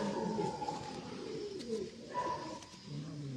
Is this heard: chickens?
no